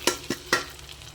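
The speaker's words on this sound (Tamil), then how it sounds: "இந்த முந்திரி நெய் திராட்சை எல்லாமே சேர்த்து நம்ம அப்படியே ஊற்றிடலாம்" Ghee-fried cashews and raisins tipped into a pot of payasam give three short, close clattering splashes with quick sizzle, then settle into faint, quiet sizzling.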